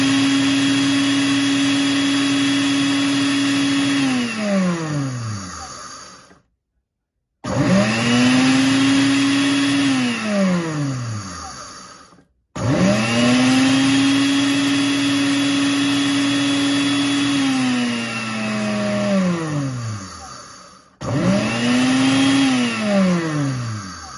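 A kitchen blender grinds rice into flour in four loud motor bursts separated by short silent pauses. The motor's whine drops in pitch as each burst winds down.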